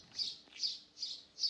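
Birds chirp on a street in Alanya, Antalya: four evenly spaced, bright chirps repeat in a steady rhythm, clear and moderately near against a quiet background, with no voices.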